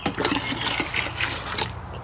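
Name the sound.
pouring dissolved lime into a natural dye vat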